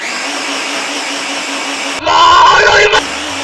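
Countertop blender on turbo mode blending oats, a loud close whir that kicks in suddenly and roars steadily for about a second before cutting off, following a quieter steady background hum.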